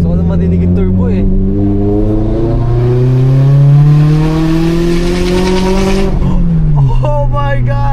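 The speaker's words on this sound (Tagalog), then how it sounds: "Marinig yung turbo eh." A boosted Subaru BRZ pulls hard on a mountain road. The engine climbs in a loud, sustained rising drone with a turbo whine, then drops sharply as the revs fall, followed by short shifts, with a voice talking over it.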